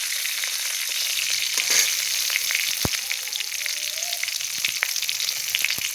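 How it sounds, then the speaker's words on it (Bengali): Dried red chillies and bay leaves fry in hot oil for dal, a bright, constant crackling sizzle with scattered pops and a light clink, nearby and unbroken, with no talking. "তেল দিয়েছি, তেলের উপরে একটু শুকনো লঙ্কা তেজপাতা দিয়ে দিলাম,"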